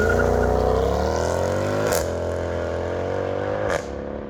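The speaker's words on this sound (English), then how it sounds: "a little brake torque, and just try and launch it ourselves" A Mercedes C63 AMG 507 Coupe launches from a standstill with a little brake torque, its V8 roaring loud and close as revs climb steadily, with two sharp gear-change breaks along the way.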